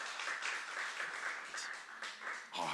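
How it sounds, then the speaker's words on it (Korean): A church congregation claps during a healing service, a short burst of crowd applause mixed with cheering voices, moderately loud and uneven in intensity. "박수."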